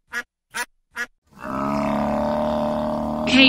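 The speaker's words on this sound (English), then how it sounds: "Cape buffalo." Three short quacks give way to a Cape buffalo's loud, low, sustained bellowing grunt that runs continuously for about two seconds, close and rough-textured.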